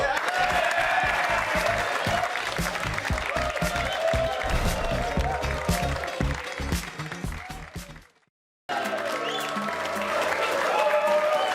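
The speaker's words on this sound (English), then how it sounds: "keep the applause going" Studio audience applause on a sports talk show, a loud dense burst of clapping that fades and briefly cuts out before resuming with music-like tones underneath.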